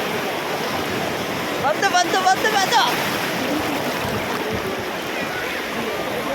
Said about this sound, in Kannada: ಸಮುದ್ರ ಬರ್ತೈತೆ.